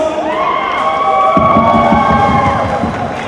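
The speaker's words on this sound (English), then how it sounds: "Can we please have a big round of applause?" Cheering and applause from an audience at a promotional event for the film Ragini MMS 2, a loud continuous crowd roar with whoops and shouts that swells about halfway through and keeps going to the end.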